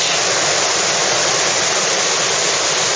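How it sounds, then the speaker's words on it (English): A mountain creek on the Mt Aspiring track rushes steadily and loudly, a constant broadband wash of flowing water close by with no voices. "Creek we've been following."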